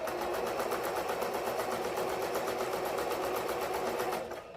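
A sewing machine stitching along a length of tulle while a ribbon trim tutu is made, a fast, even mechanical whir running steadily for several seconds before slowing at the end.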